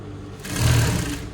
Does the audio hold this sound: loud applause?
no